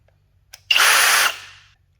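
A faint trigger click, then a hammer drill whirs up loudly, runs steadily for about half a second, and winds down.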